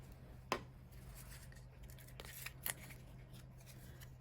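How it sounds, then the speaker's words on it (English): Scissors snip freehand through a paper sentiment for a card, a few quiet crisp cuts with a sharp one near the start and a couple more later, alone with no talk. "I like freehand cutting my sentiments."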